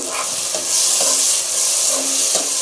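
Fried radish and carrot being stirred into tomatoes in a sizzling pan, with a steady frying hiss and several distinct scraping strokes of a spoon at regular intervals, close and clear.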